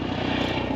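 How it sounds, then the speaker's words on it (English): Helicopter flying overhead, a close, steady rhythmic rotor chop and drone through a short stretch, loud and alone. "You hear a helicopter"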